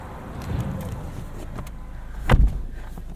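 Inside a 2024 Subaru Impreza RS, a front power window runs with a faint motor hum, ending in a sharp thud as the glass seats, all quiet and close in the cabin.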